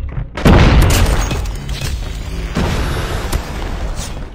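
A grenade goes off in the mobile shooter game Call of Duty Mobile with a loud, deep boom and a long rumbling decay, followed by a second heavy impact a couple of seconds later.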